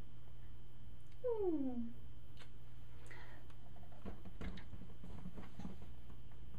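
A single drawn-out cat meow, falling in pitch, rises briefly over a steady low background hum, with a few faint ticks afterward.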